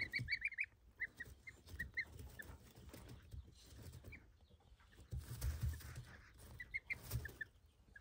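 High, repeated peeping of chicks gathered around a hen in a village, scattered bursts with low clucking from the hen underneath; moderately close, with outdoor background noise.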